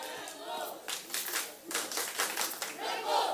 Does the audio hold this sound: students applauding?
yes